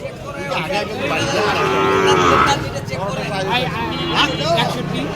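Sahiwal bulls and cattle at a busy rural cattle market, lowing loudly and repeatedly close by amid a crowd's chatter and nearby talking.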